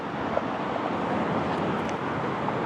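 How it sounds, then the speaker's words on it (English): Steady road traffic noise from US 50 overhead, heard from a waterside spot below the highway: a continuous broadband rumble and hiss with no distinct passes, fairly loud and unbroken. "Pardon the road noise. I've got US 50 right over my head"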